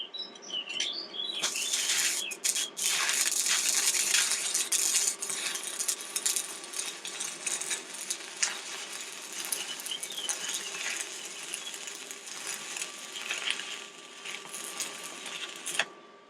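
Arc welding crackles and sizzles in an uneven, sputtering hiss with bursts of popping, fairly close and continuous with short breaks.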